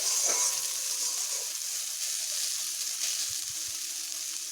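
Green plantain peel fries in a pan with a continuous, fairly loud close sizzle and a few low knocks near the end, and no voices are heard.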